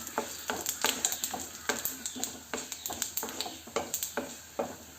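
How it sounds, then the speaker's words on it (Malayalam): A spoon stirs fried coconut pieces and sesame seeds in a pan, making quiet rhythmic scraping clicks, evenly spaced and soft, over a faint sizzle. "എള്ളും കൂടി ഇട്ടൊന്ന് നമുക്കൊന്ന് മിക്സ് ചെയ്ത് എടുക്കാം."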